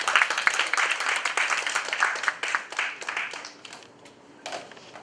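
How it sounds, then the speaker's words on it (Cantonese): An audience at a talk welcomes a speaker with a round of clapping, moderately loud and crowded at first, thinning to scattered claps, with a brief late burst. "俾掌聲歡迎陳奕希先生。"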